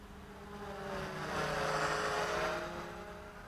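A Cheerson CX-20 quadcopter flies at full throttle, a continuous, buzzing propeller whine that swells and fades gently as it passes at moderate distance, with no talk.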